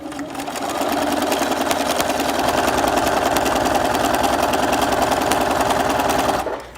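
A sewing machine stitching a paper-pieced quilt block runs in one steady, fast continuous whir with a rapid mechanical chatter, close and loud, starting after a brief pause and stopping abruptly near the end.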